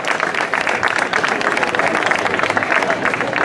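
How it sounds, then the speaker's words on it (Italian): Dense, steady applause from a close crowd of spectators at a hill-climb race in Tiriolo, continuous clapping without pause throughout. "Applauso!"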